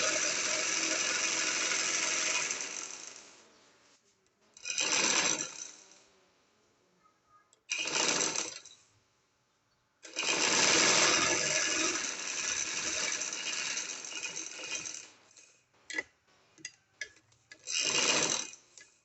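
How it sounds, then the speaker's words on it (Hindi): A sewing machine stitches the side seam of an angrakha-style shirt in several bursts: a long run, two short ones, then a longer run and a final burst, each a close rattling hum separated by near silence and small clicks. "हम फिटिंग की दूसरी साइड की सिलाई लगाने लगे हैं।"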